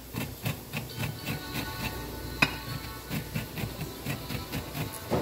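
Butter melting with garlic cooking in a pan gives a steady hiss and soft crackle, with rhythmic tapping and knocking over it, close and moderately loud without any talk.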